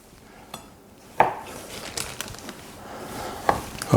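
A knife scores small slits around the edge of a pork schnitzel on a kitchen board: a few sharp, separate cuts and taps spaced through the moment, close and fairly quiet, with no talking.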